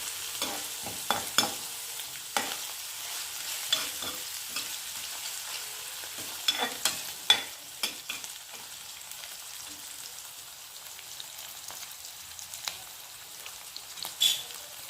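Onion and curry leaves sizzle in a pan for tomato gravy, frying until golden: a constant hiss of hot oil with sharp scraping and tapping stirs recurring every second or so, close and clear.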